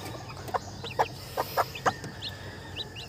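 Silkie chickens give a few soft, short clucks in quick succession, close and fairly quiet over faint background noise, with occasional higher chirps between them.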